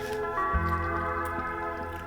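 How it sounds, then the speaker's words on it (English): A fresh lemon is squeezed by hand over a blender jar of fruit and cooled sugar water, giving a short wet squish and faint drips against a steady background hum. "and then I'm gonna squeeze"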